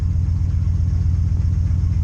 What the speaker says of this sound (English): Yeah, the knock is starting to come back.